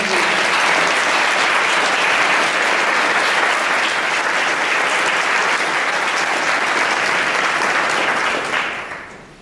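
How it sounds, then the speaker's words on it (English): Audience applause at a conference dinner, loud, dense and steady throughout, fading out in the final second; no talking over it. "Let's take a minute to give a round of applause to everyone."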